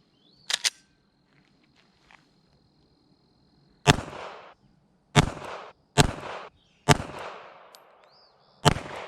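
An FN 509 Tactical pistol fires a series of sharp, loud single shots at uneven intervals, six reports in all with short echoing tails and quiet pauses in between.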